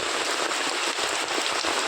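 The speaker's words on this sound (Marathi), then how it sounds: "नाही नाही म्हणताना पाऊस वाढत चाललो हा हळूहळू" Heavy rain pours steadily onto a surface outdoors around a wood-fired stove under a makeshift shed, as a dense, continuous hiss with no pauses.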